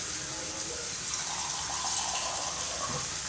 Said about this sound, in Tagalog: Gamay tubig para maluto si gulay.